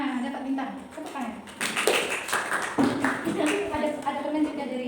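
Students in a classroom give a ragged round of clapping for classmates awarded stars, the claps mixed closely with lively talk and children's voices throughout.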